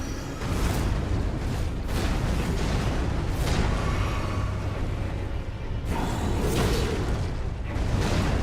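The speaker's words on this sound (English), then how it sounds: "Oh, that's the explosion." Explosions in Elden Ring during the Starscourge fight, a series of deep booming blasts roughly every second or two over constant rumbling game noise.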